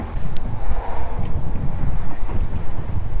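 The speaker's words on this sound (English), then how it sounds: "It's a wee bit windy." Steady wind buffeting a microphone outdoors at a beach, a low continuous rumble and roar with gusty fluctuations throughout.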